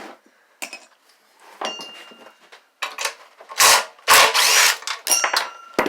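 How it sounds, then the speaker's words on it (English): Work on a Honda engine from a mini bike as its flywheel recoil cover is taken off: several loud, close bursts of clattering metal, ratcheting and scraping, separated by short pauses, with no talking. "I'm going to take this sweet flywheel recoil cover off."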